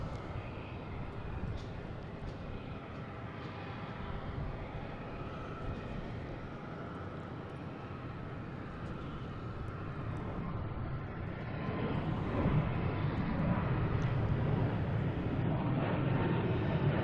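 A Delta airliner takes off from Boston Logan, bound for Nashville, a steady far-off jet rumble that swells louder toward the end.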